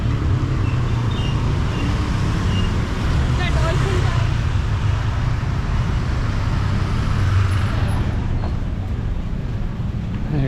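Gridlocked Sunday traffic crawling bumper to bumper both ways on Jalan Hanoman in Ubud, a steady loud wash of engines and road noise close by, with voices faintly mixed in.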